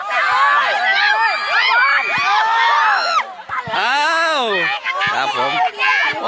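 A school football match cheering squad in Thailand, with a loud, close crowd of young voices shouting and whooping continuously in overlapping calls.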